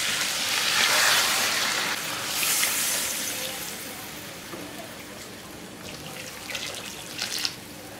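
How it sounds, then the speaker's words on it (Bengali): Hot water poured into a pan of fish curry with fried potatoes, a broad splashing rush that swells at the start, eases, then comes in a few smaller bursts near the end. "আজকে গরম জলটা দিয়ে দিচ্ছি"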